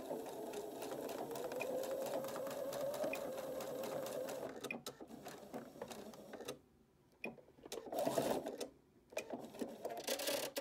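Sewing machine stitching a cap, running steadily at close range for several seconds, then stopping and restarting in shorter bursts with small clicks between.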